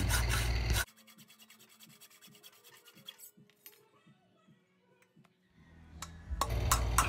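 Sawing through the spot welds on a Raider 150 motorcycle muffler tip, with loud rasping strokes at the start and end and a soft, rhythmic metallic scraping between them, close by.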